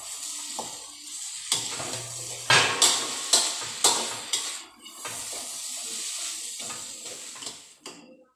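Vegetables stir-fried with shrimp and pork in a hot pan: a steady sizzle under repeated scraping and clattering strokes of a spatula, in irregular bursts with short pauses, close and moderately loud.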